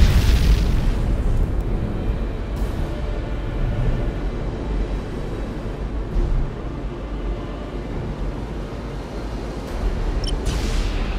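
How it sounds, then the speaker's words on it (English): An enemy transport ship explodes in the space strategy game Battlefleet Gothic: Armada: a loud burst at the start gives way to a heavy, steady low rumble that carries on throughout. "Enemy transport ship destroyed."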